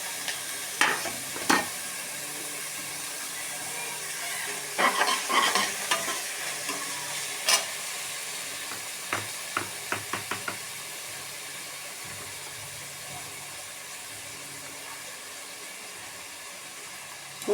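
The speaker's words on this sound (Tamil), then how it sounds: "இதெல்லாம் கொஞ்சம் வதங்கட்டும்." Tomato, coriander and mint sautéing in a pan with ginger-garlic paste give a soft, steady sizzle, broken by scattered clicks and scrapes of stirring, the busiest bursts early on and the pan settling into quieter frying later.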